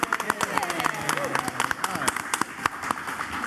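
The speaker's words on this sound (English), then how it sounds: "give yourself a round of applause for coming out" Audience at a live San Diego Comic-Con panel in an auditorium clapping and cheering, a busy burst of sharp hand claps with whoops and shouting voices layered over it.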